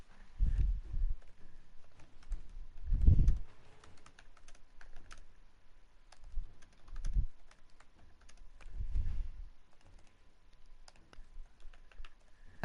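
Someone types on a computer keyboard with irregular bursts of soft key clicks and thumps, pausing between flurries, close and moderately quiet.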